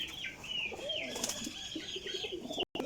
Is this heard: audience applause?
no